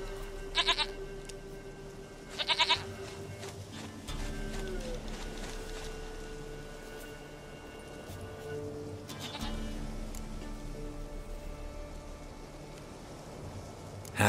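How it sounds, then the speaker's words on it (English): A goat in The Witcher 3 video game gives several short nasal bleats, two close together early and another later, heard over droning game music and ambient background. "Goat of mine, dearest, sweetest goat."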